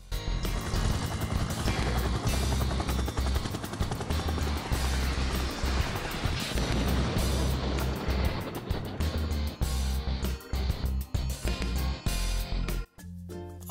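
Helicopter in the Minecraft video game, a loud continuous rotor and engine roar with rapid chopping pulses throughout that cuts out abruptly near the end, with no talking over it.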